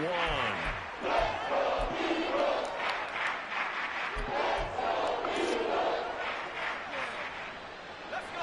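A football stadium crowd roars in a steady wash of cheering and shouting during a goal-line play, loud and continuous beneath a commentator's voice.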